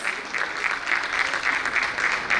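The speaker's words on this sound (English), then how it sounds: "Ladies and gentlemen, let's welcome him with a loud round of applause" A TiECON 2025 conference audience gives a round of applause as a speaker is welcomed: dense, steady clapping from many hands, fairly close and evenly sustained with no talk over it.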